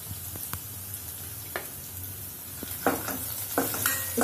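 Chopped garlic, grated ginger and turmeric are stirred as they sizzle in a pan for a mixed dal tadka. There is a steady close frying hiss with several soft scrapes of the spoon.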